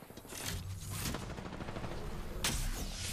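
Gunfire in Apex Legends during a ranked match rattles on in a rapid, continuous burst of shots, quiet and slightly distant, with a sharper crack near the end.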